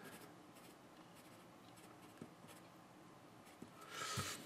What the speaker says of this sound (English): I think it's a great pencil to draw with because it's very soft.